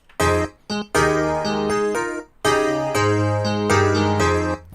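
A series of sustained, unprocessed piano chords, warm 80s-style electric piano layered with bright grand piano, struck one after another with short gaps, close and clear.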